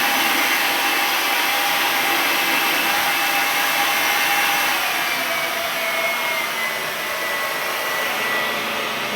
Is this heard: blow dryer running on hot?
yes